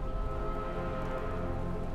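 Steady rain in Batman: Arkham Knight's Red Hood DLC, an even hiss of falling rain under a low tonal game ambience, continuous and moderately loud.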